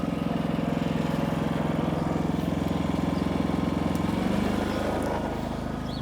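A Predator 5000-watt inverter generator runs steadily close by with a constant buzzing drone, its pitch shifting slightly as it leaves eco throttle mode and settles at full engine speed.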